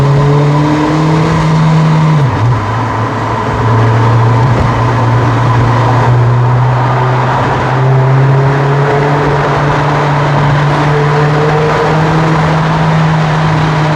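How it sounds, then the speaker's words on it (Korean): A loud, steady exhaust drone from a naturally aspirated 2010 Kia Forte Koup holds a sustained rev with a brief dip early on, continuing close and uninterrupted with no talking. "배기음 많이 듣게 되네요"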